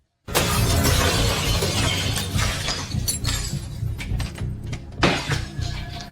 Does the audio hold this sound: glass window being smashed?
yes